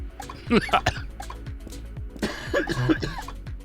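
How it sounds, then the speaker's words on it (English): A man coughs several times in close rough bursts, with some throat clearing and a wet, raspy edge, heard over low background sound during a factory-game session. "He's coughing again."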